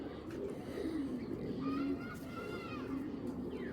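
Giribaz pigeons cooing softly in a loft, several low, drawn-out coos overlapping in a quiet setting, with faint voices in the background.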